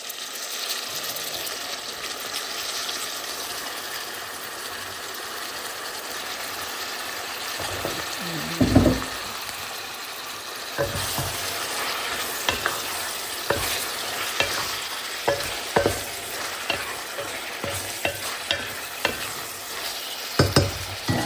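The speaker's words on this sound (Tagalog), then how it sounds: "ilagay naman natin yung beef, yung karne natin" Beef dropped into a pan of browned onions for Filipino beef caldereta sizzles steadily, with a sharp burst as the meat hits the hot oil, then repeated scraping stirs over the continuous frying hiss, close and fairly loud.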